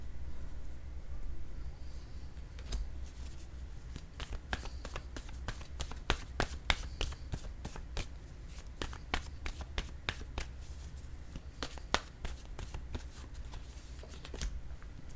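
Oracle cards handled and laid down one after another in a quiet room, a long run of crisp card slaps and taps at an irregular, brisk rhythm, close and clear.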